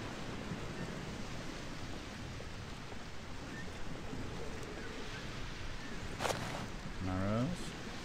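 Waterfall in the video game Ultima IX: Ascension, a steady broadband rush of falling water filling the whole stretch, with a brief tonal game effect near the end.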